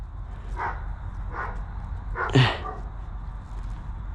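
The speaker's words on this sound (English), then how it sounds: "They put the barky dog out while I'm making a video." A dog outdoors gives a few faint, distant barks over steady background noise, with one louder, sharper yelp in the middle.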